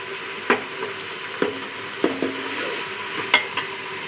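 Ingredients fry in a pan for an Andhra-style rice dish, browned until reddish: a steady soft sizzle with a few sharp spoon-scrape clicks at intervals, close and fairly quiet, no voices.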